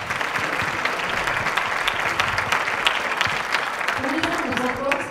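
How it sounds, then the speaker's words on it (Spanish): Audience applause at a public event on human trafficking, steady and moderately loud clapping that holds for several seconds, with a hint of voices surfacing near the end. "Un fuerte aplauso para Patricia."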